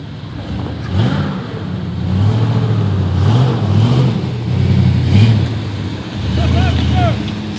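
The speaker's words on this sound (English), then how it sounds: "Tires spinning." A four-wheel-drive rig at the 2014 Marty Crawl rock-crawling event revs hard in surges while its tires spin trying to climb, with voices murmuring in the background throughout.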